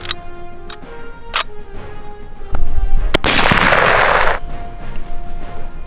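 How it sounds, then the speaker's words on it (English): Airsoft guns fired outdoors during play in WW2 US uniforms, with several sharp cracks and ticks scattered across the clip and a louder burst of noise in the middle. "Let's go ahead and get some shots off at that freaking German couch."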